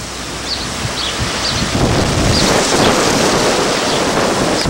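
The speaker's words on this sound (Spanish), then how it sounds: "hay un viento y una tierra impresionante." A strong wind drives dust in a loud, continuous roaring rush that buffets the microphone and grows fuller after the first couple of seconds, with no voices.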